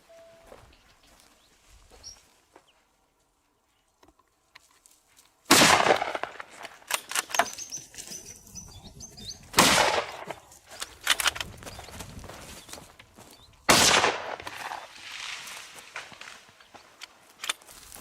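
Hunters fire at a black-coated wild boar near a lake, several sharp, loud gunshots cracking out in separate bursts amid outdoor quiet, with rustling movement and scattered smaller pops between the shots.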